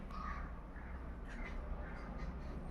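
A black drongo calls outdoors, giving a few faint, scattered harsh notes at a distance over a steady low background hum.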